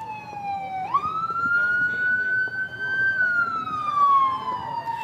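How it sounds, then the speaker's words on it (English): Police car sirens wail at a fireman's parade in the 2018 WV Strawberry Festival, a loud rising and falling electronic tone that jumps in pitch, sweeps up and slowly glides back down over street noise. "you can always hear the sirens"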